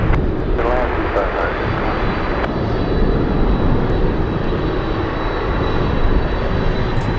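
A Delta airliner rolls past at Anchorage airport on a gusty day, its engines a broad, steady roar filling the whole clip, with faint radio chatter and talk mixed beneath.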